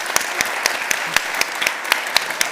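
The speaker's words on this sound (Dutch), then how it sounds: "Ik denk dat we een groot applaus sowieso voor Leen." Audience applause at a panel event, a short burst of dense, close clapping with sharp individual claps standing out, no voices over it.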